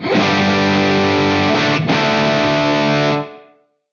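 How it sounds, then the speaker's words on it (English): A distorted electric guitar chord through a Wampler Catacombs delay/reverb pedal rings out for about three seconds, then cuts off, leaving a short, tight room reverb tail. "so you get like that nice sort of tight ambience, as if the guitar cab is just in a room"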